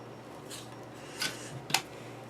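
Wire snips clip excess leads on a Samson Meteor USB microphone's headphone jack during soldering, giving two or three short, sharp snaps close by over a quiet background hum.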